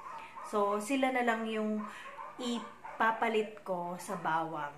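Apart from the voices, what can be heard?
dogs barking in the background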